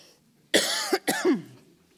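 Two harsh coughs in quick succession, close and loud, followed by quiet.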